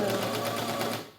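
A serger fitted with a beading foot stitches beads onto a fabric edge, a steady rapid mechanical whir with a regular pulsing beat that slows and fades at the end.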